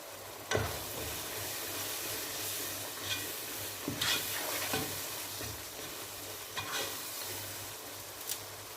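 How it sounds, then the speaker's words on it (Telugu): Biryani powder being stirred into chicken biryani in a pan, steady frying sizzle with several scraping spoon strokes at irregular intervals, close and moderately loud, no talking. "1 స్పూన్ బిర్యానీ పౌడర్ వేసుకొని కలుపుకున్నాం"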